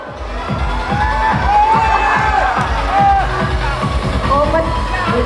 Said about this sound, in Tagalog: Mas dumami yung palakpak niya.